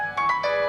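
An electronic phone ringtone plays a repeating melodic pattern of bright tones, fairly close and steady, with no voices.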